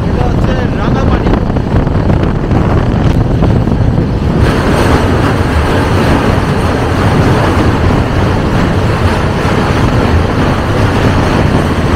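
A Rajdhani Express train running on a first AC journey, a loud, continuous rumbling roar with heavy wind buffeting, steady and close for the whole stretch.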